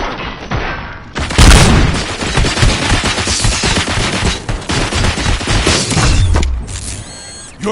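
Loud, dense gunfire from the RoboCop video game, a near-continuous volley of shots with heavy booms that fills the stretch, broken by a short lull near the end before another burst.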